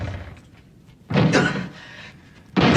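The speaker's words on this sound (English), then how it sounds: "I'm breaking the door down!" A door is broken down in an audio drama: two heavy, loud impacts land about a second apart, each a dull slam against a low background rumble.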